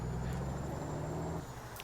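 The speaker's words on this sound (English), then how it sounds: "Now the engine mod sound, it's not, I mean, loud when you're far away from it." A Kenworth T680 truck engine fitted with The General mod idles with a steady low rumble in American Truck Simulator, moderately quiet and continuous with no talk.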